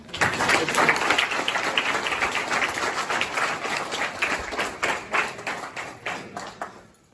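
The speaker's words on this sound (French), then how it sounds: "Un tonnerre d'applaudissements." Applause at a Christmas celebration held by a church group, a crowd clapping steadily and fairly close, the clapping thinning into scattered claps as it dies away.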